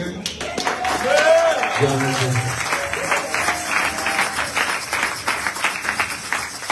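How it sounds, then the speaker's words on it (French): A church congregation applauds during a Sunday service, dense clapping running throughout with voices and a sustained tone mixed in underneath. "Est-ce qu'on peut applaudir?"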